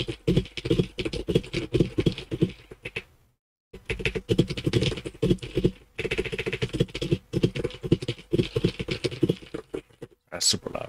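A computer keyboard clicks and clacks in rapid, loud bursts, mixed with talking, with two brief pauses where the typing stops.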